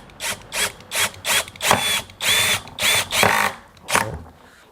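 A PUMA brushless cordless three-mode impact drill bores into wood in about nine short, loud whirring bursts with brief pauses between them, heard up close and alone.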